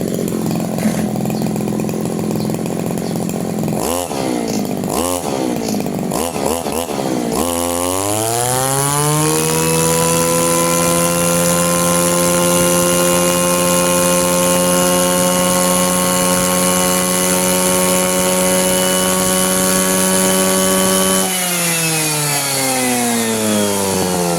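A Kyoritsu SRE2650 brush cutter's small two-stroke engine sputters through a few rough blips, then revs up and holds a loud, steady high-pitched whine for about fifteen seconds before dropping back toward idle.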